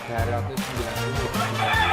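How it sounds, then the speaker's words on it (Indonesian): Hundreds of free-range native village chickens cluck and murmur inside a coop, a dense, continuous chorus of overlapping calls at close range with no pauses. "Ini kalau di total ayam di sini sekitar ada 500-an ayam kampung Mas ya"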